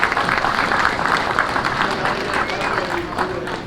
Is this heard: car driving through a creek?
no